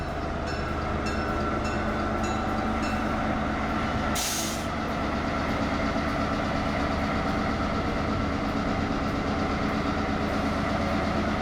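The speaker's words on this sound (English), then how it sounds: "The slug adds pulling power to a train's engine by putting 8 more powered wheels on the rails." A railroad slug with traction motors, coupled to a locomotive, gives a steady, loud rolling rumble with no pauses, and a short burst of air-brake hiss cuts in about a third of the way through.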